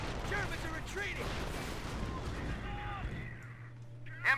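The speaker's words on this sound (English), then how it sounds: "MG gunner up and firing." A machine gun fires in Company of Heroes battle amid distant artillery-like booms and rumbling, rapid bursts blending with explosions and game effects while someone talks over the action.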